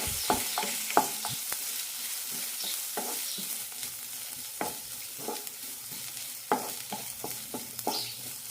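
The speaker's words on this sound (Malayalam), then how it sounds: "ലോ ഫ്ലെയിമിലിട്ട് രണ്ട് മിനിറ്റ് നന്നായി വഴറ്റാം" Green chillies are sautéed over a low flame for a drumstick stew, with a soft, steady sizzle of oil under repeated scraping strokes of a spoon against the pan, close up and without talk.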